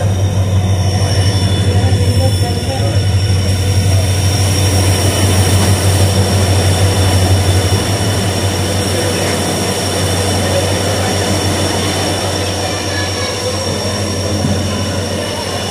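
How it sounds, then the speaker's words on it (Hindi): A train pulls into platform 2 at Ringas Junction, a steady loud rumble of wheels and engine with a low drone and high squeal, sustained throughout and easing slightly toward the end. "ट्रेन अराइव होते हुए रिंगस जंक्शन पे प्लेटफॉर्म नंबर 2 पे।"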